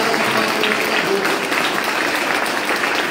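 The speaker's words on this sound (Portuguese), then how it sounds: "Então, Roberto Monteiro, eu queria que você pudesse dar uma salva de palmas para esse cara" A crowd at a political rally for Lula in Itatiaia claps steadily and densely for a few seconds, the applause loud and continuous with murmured voices mixed in.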